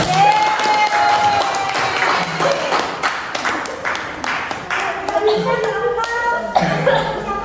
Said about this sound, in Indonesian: beri aplaus dulu untuk kelompok